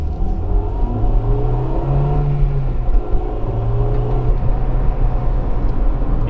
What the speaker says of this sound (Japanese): 気持ちよくね、エンジンの方も回ってきますね。